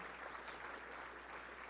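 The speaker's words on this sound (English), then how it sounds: "Once again, big round of applause for Matt Martinez, ladies and gentlemen." An audience at an awards show claps in a soft, continuous wash of distant applause, brief and even, with no distinct voices.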